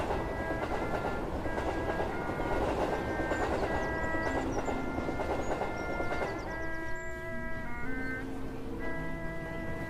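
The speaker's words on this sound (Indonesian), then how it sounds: "Kereta api penuh sesak, berangkat menuju Tanjung Priok." A crowded train departs for Tanjung Priok in 1928, its wheels clattering in a steady rhythm while sustained whistle tones sound over the rolling noise.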